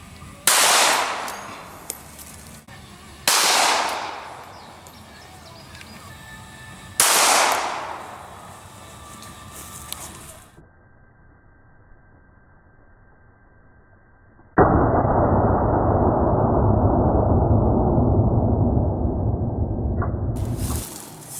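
Four sharp .380 pistol shots fired for speed testing ring out at steady intervals, each a loud close crack trailing into a decaying echo, followed by a long stretch of steady noise.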